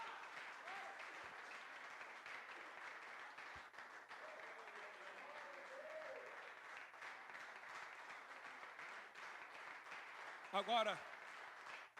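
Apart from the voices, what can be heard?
church congregation applauding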